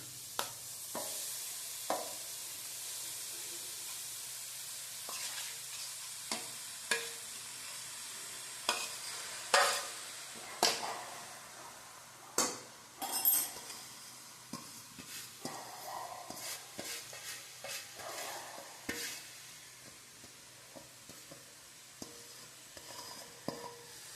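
Grated beetroot being roasted in a pan for beetroot ladoo, a soft, low sizzle under a long run of irregular spatula scrapes and taps, some sharp and close, with no voices.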